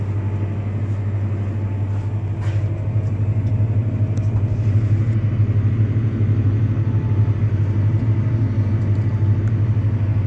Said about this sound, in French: vous voyez que le tracteur il passe pile poil au bon endroit